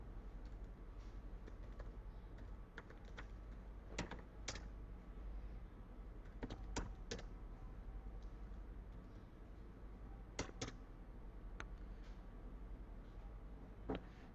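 Soft, irregular clicking of computer keys as sample data is typed in, faint and fairly distant with sporadic sharper keystrokes over a steady low background hum.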